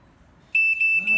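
Digital Bluetooth BBQ thermometer timer alarm beeping, a loud shrill electronic tone in short repeated bursts after a quiet moment, with a brief voice underneath near the end.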